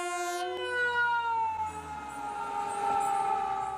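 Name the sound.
toy ambulance siren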